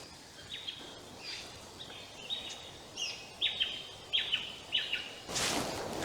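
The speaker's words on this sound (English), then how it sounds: "I can hear everything else, birds and things, as the sun sets soon" Birds sing in a forest as the sun sets, a series of short bright chirps and twittering calls repeating every half second or so at moderate distance over a quiet background, with a louder rustle at the end.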